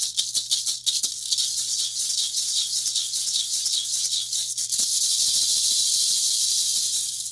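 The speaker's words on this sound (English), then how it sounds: "just a gourd, painted gourd with a handle and seeds inside" A thin-shelled painted gourd rattle with a handle and only a few seeds inside is shaken, giving a bright, hissing swish of loose seeds with quick taps at first, then a steady, sustained shake.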